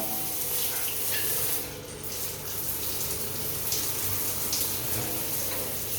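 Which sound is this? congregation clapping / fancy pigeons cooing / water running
water running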